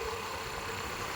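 A motorized pumpboat engine runs with a steady, loud, droning chug that holds even and unbroken for the whole short stretch, with no voices.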